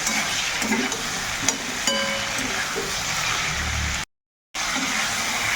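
Ginger-garlic paste frying in a pan for a fish curry as it is stirred, a steady close sizzle with scraping and clinking strokes, cut by a brief gap of silence near the end.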